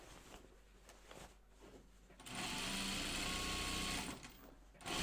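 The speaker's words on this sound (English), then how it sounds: "So now let's sew our edge here just like we did on the fox bag." A domestic sewing machine stitches along a fabric edge of a Chicken Boots Wallaby toy in a steady burst of roughly two seconds. Quiet handling sounds come before it, and a brief restart follows.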